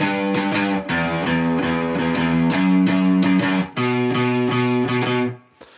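Distorted electric guitar plays a riff over a bass line, in steady picked eighth notes with sustained chords, loud and close, then stopping abruptly near the end, with no voice.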